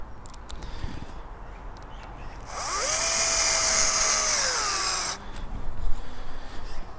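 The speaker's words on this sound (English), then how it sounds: "So all you got to do is shove the screws in. I'm just using 1-inch wood screws here." A power drill drives 1-inch wood screws while fitting an anti-pigeon fixing to a kid's climbing frame, a steady whining motor for about two and a half seconds with rising and falling pitch, close and fairly loud over quiet background.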